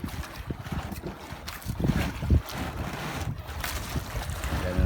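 Strong wind and breaking waves surround a small fishing boat at sea, a steady rushing roar with gusts buffeting the microphone and water surging against the hull throughout, no talk over it.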